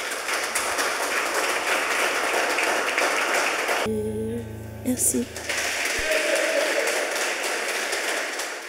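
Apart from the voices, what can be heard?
audience applause for a singer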